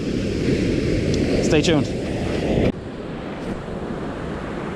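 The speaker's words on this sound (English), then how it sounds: "Yeah, some waves." Sea waves surge and hiss at a rough, unfishable stretch of coast, with steady wind buffeting the microphone. Someone talks briefly over the noise.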